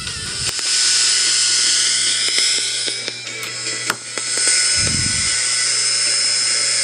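An AM tube transmitter kit plays through a nearby radio, giving a hissy, buzzy broadcast with a steady low hum, scattered clicks and crackles, and two short thumps of low rumble.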